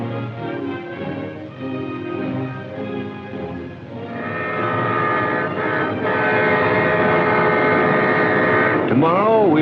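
A 1950s Southern Railway train arriving in Columbia, South Carolina rumbles along with a long sustained horn blast growing louder, steady rolling noise beneath and a voice speaking briefly at the start.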